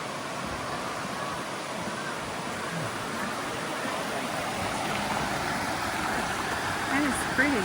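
Waterfall in the Black Hills of South Dakota, heard from a boardwalk as a steady broadband rush of falling water that holds at an even level throughout, with faint voices and a brief louder burst near the end.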